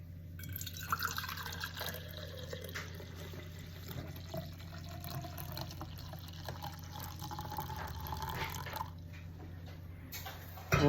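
Cooled milk, warmed for homemade raw breast-milk yogurt, is poured from a pot into a container, a quiet close trickle and drip of liquid running steadily with a soft splash near the end.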